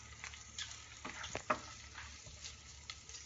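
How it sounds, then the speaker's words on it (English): Quiet crackling sizzle of spaghetti carbonara ingredients rendering in a pan over very low heat, with scattered pops and a steady hiss, no talking. "You can hear the sizzle of the."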